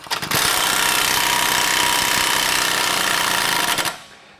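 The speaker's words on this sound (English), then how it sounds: "Now we're going to remove our lower shock bolt. It's an 18mm wrench and an 18mm socket." An impact wrench with an 18mm socket spins off the lower shock bolt on a 2018-or-later Jeep Wrangler JL, a loud sustained rattling hammer lasting a few seconds before cutting off, close up in a shop.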